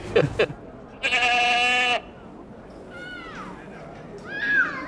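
Goat bleating close by, one long wavering bleat preceded by a short sound, then softer higher bleats and calls over quiet outdoor background.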